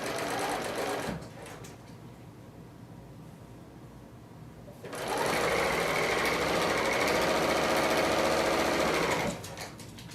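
Bernina L890 serger stitching over a folded fabric seam, a fast, even mechanical whir that starts, pauses, then runs loudly for several seconds before stopping.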